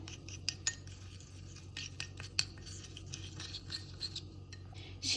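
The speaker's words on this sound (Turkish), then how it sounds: "Biraz karıştıralım." A spoon stirring a lemon juice mixture in a glass, producing faint, scattered clinks and scrapes with short sharp taps over a quiet background, ending in a slightly louder rustle.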